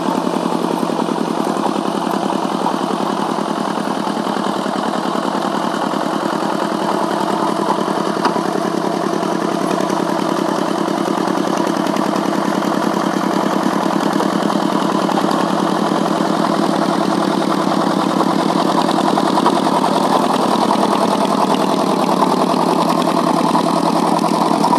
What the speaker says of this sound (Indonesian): pakai traktor.